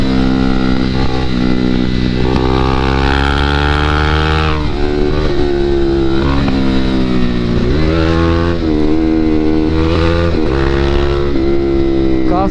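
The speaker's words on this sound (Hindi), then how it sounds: "काफ़ी ज़्यादा थ्रॉटल दे के चला रहा हूँ मैं हाई आरपीएम पे" Several KTM 390 motorcycles ride together at high throttle and high RPM, their engines roaring loudly and continuously with rising and falling revs throughout.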